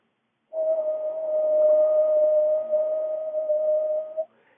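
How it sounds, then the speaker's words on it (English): A single low-pitched whistle holds one steady tone for nearly four seconds, fairly loud and close with a breathy edge, then stops abruptly. "Now watch as I make a low-pitched sound."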